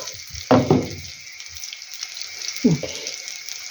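A steady oily sizzle of cheese pancakes (syrniki) frying in oil in a pan runs throughout, with a couple of louder bursts of crackling and clatter.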